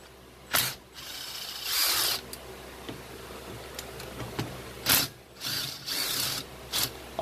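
A Makita power ratchet buzzes in several short bursts while removing bolts on the AC system of a 1996 Ford F150, with quiet pauses between runs and small clicks of metal in between.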